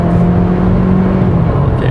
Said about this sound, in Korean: 가속을 할 때 그 엔진 소리는 좀 큰 편이에요.